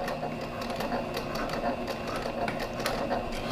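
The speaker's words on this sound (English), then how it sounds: "I am going to stitch about 1/8 inch in." A sewing machine runs steadily while stitching a tote bag pocket close to the edge, a fast even mechanical whir with a rapid rhythmic needle chatter, fairly close and alone without talk.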